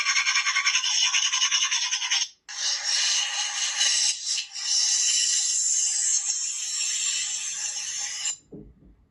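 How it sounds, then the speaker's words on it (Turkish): Rapid scratchy bristle strokes of a toothbrush scrubbing teeth, loud and close, running steadily for about eight seconds with two brief pauses before stopping. "Elini yüzünü yıka dişlerini fırçala gidelim."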